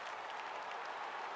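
An arena crowd at a UFC fight between Alex Pereira and Luke Rockhold applauds and cheers in a steady, distant wash of noise.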